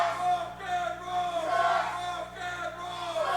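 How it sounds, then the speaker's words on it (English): A wrestling crowd at an OVW match cheers and chants in a sustained, swelling roar that rises and dips, with a commentator talking over it. "This crowd coming alive for this matchup, showing their allegiances."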